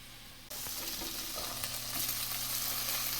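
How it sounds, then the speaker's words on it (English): Bacon sizzles and crackles steadily in a frying pan, a dense close hiss that starts abruptly and holds level, with a faint low hum beneath and no talking. "cook your bacon, and you want to take a couple that's not quite done"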